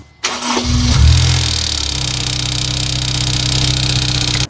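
Honda S2000 engine with a failing timing chain tensioner: a loud, close start-up, a quick flare of revs, then a sustained idle with a persistent whining drone coming from the engine bay.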